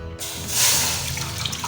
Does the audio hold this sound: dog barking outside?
no